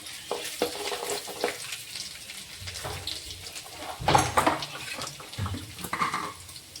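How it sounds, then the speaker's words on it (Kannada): Chopped ginger and garlic fry in a hot pan, giving a steady sizzle with brief louder hisses and stirring noises. No voices are heard. "ಬೆಳ್ಳುಳ್ಳಿ ಸಣ್ಣಗೆ ಸುಲಿದ್ಬಿಟ್ಟು ಕಟ್ ಮಾಡಿದ್ದೆ ರೀ ಅದು ಕೂಡ ನಾನು ಹಾಕೊಳ್ಕೊತೀನಿ"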